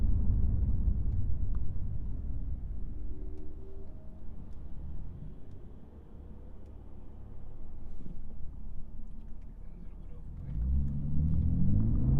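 BMW M3 CS driving on the road, its engine a steady low rumble from inside the car that swells louder near the end as it pulls away, with a passenger talking faintly over it.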